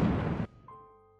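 A loud, rumbling blast cuts off abruptly, leaving a faint lingering tone that slowly dies away.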